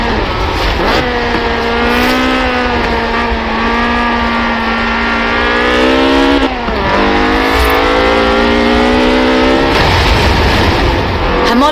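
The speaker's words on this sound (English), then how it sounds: "a car designed explicitly for rallying, with a powerful fuel-injected 1790cc Cosworth BDE engine" A Ford rally car with a fuel-injected 1790cc Cosworth BDE engine revs loudly in Forza Horizon 4, its steady high-pitched drone rising and falling through gear changes, with a brief dip near the middle before climbing again.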